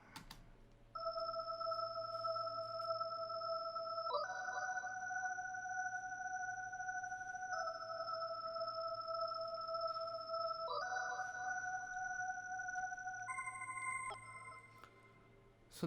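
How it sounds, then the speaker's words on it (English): An organ patch from a hip hop beat made in FL Studio plays sustained chord tones that shift every few seconds, bright and steady with a low hum beneath, alone and fading out at the end. "that's this organ patch"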